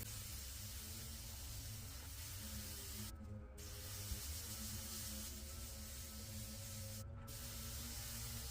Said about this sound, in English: When I water in seedlings, I turn it to mist, because I don't need a heavy spray pushing everything around.